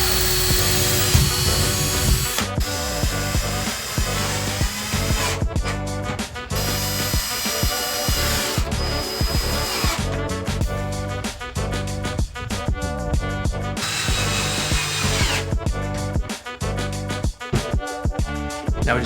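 A power drill drives screws to mount a Harbor Freight LED shop light onto a vertical light stand, whirring in repeated bursts broken by short pauses, close and fairly loud.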